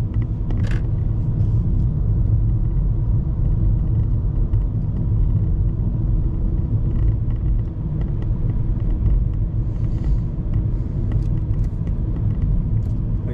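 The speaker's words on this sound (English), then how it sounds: "Oh yeah, it's a beautiful scenic drive here." A truck drives along a scenic mountain road near Pine Cove on the way to Idyllwild, California, with a steady, loud low rumble of engine and road noise throughout and no speech.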